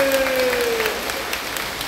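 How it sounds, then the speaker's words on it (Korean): A forum audience at a Korean festival gathering applauds, a dense steady burst of clapping that fades slightly toward the end. "박수 박수."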